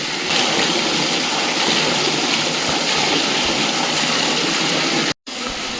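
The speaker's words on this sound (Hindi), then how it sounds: "जैसे कि प्लेन्सों में ट्यूबवेल में आता है उतना मोटा पानी आ रहा है" Heavy water gushes from a mountain spring at a Himalayan shrine in Uttarakhand, a thick, pipe-like flow making a loud, constant rushing hiss close by that breaks off briefly near the end.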